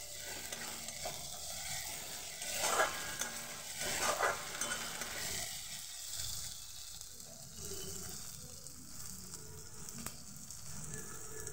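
Onion with ginger-garlic paste fries for a bhola fish mustard curry, a steady close sizzle with stirring scrapes that swell briefly twice near the start, then settle into an even hiss.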